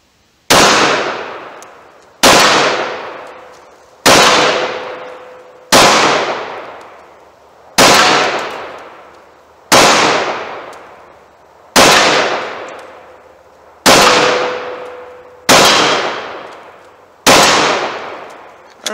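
About ten loud, sharp .45 ACP pistol shots fired at a target 40 yards away, spaced roughly two seconds apart in a steady rhythm, each with a ringing decay before the next.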